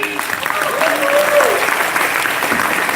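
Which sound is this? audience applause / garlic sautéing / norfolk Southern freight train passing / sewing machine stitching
audience applause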